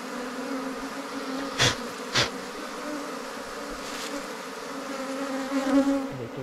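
Wild honey bees buzz steadily at a home hive being tended, a dense continuous drone close by with a couple of brief knocks partway through and no speech.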